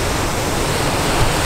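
High ocean waves crash onto the shore on Sumba, a loud, steady, unbroken roar of surf with no pauses.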